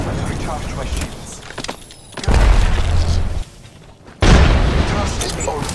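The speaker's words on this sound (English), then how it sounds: "Throwing thermite grenade!" A thermite grenade goes off in Apex Legends with loud, heavy bursts, a sustained low roar around two seconds in and another near four seconds, separated by a brief quieter gap, while in-game voice lines and other game sounds play around it.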